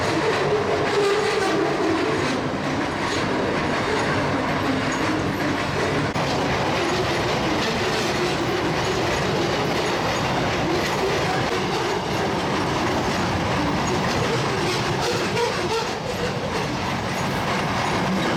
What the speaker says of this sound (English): Train right outside my door.